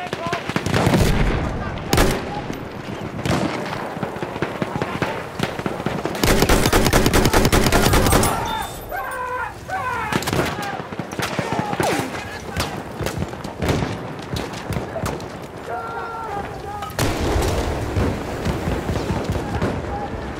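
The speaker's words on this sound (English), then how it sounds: "Feindliches MG!" Enemy machine gun fire in a video game crackles in loud, dense bursts of shots, thinning out in the middle before picking up again, with some voices heard among the firing.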